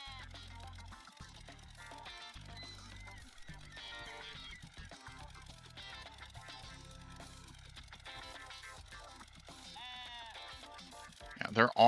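Sheep in the Wizards 4 video game bleat repeatedly over busy game music and effects, fairly quiet, while commentators talk over the action.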